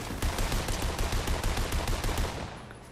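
A minigun fires in a video game as one continuous rapid burst of tightly spaced shots, loud and close, tapering slightly near the end with no talking over it.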